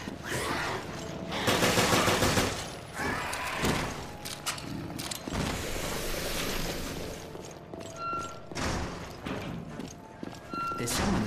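Video-game gunfire in Resident Evil: Revelations, with rapid bursts of shots and clattering impacts layered over dense action noise, loudest early on.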